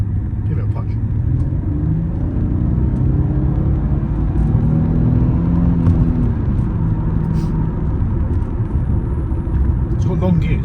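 A Jaguar XJ6 X350 3.0 petrol saloon kicks down and accelerates hard, a deep, continuous engine rumble from inside the car, with a voice talking over it.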